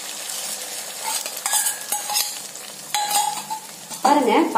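Beaten egg poured into a pan with onions, green chilli and turmeric, frying with a light crackling sizzle under intermittent scraping and stirring clatter of a spatula against the pan.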